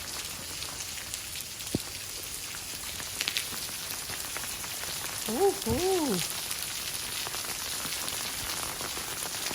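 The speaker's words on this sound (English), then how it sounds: "When we say rain in Oslo, this is rain." Steady rain falls on a street in Oslo, Norway, on a spring day, a dense even patter of drops on hard surfaces throughout, with a person briefly exclaiming and a faint whistling tone in the middle.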